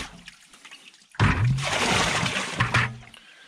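Water splashes and pours into a bucket as it is rinsed behind an off-grid cabin after emptying a composting toilet, a close two-second gush that trails into a soft trickle.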